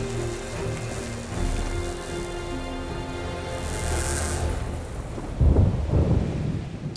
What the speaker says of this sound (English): Suddenly, a storm draws near.